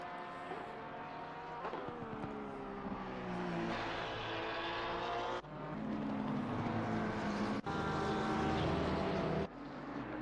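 A sim racing car engine drones loud and steady in a racing game, its revving pitch rising and falling through gear shifts, with a few abrupt cuts and no voices.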